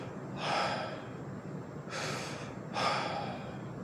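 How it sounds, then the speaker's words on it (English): Breath of fire: three forceful, rapid nasal exhalations come in a row, close and breathy, separated by short quiet gaps. "this breath is accelerated"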